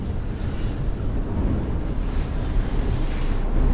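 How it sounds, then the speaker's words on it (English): Strong wind roaring outdoors on Pikes Peak, a dense, loud, unbroken buffeting rush battering the microphone for the whole stretch. "The wind's pretty fucking brutal, eh?"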